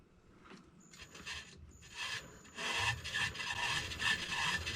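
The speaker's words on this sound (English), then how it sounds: "Just rounding the end of the bar so that the end of the stud looks" Hand filing on the end of a metal bar to round it for a BA stud, a series of rough rasping strokes that grow louder and more continuous toward the end, with no talking.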